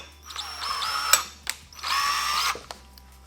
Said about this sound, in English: I'm just gonna have to drill out both of them actually